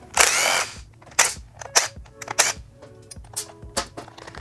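Phillips head screws being taken out of the rear turn signals on a 2022 or newer Yamaha XSR900: a loud opening burst followed by a string of sharp, separate clicks and clacks, near and with no talk.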